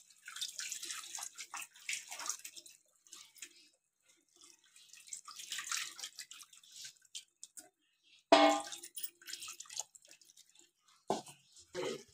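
Soaked tamarind water pours into a pan for a brinjal curry, in irregular splashing and trickling bursts with quiet gaps and one louder gush near the end, close and with no talk.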